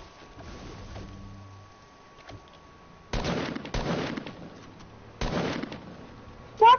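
Gunfire in Fortnite breaks out in bursts of rapid shots around a quiet stretch. One faint early volley is followed by two louder bursts, then a final sharp crack near the end.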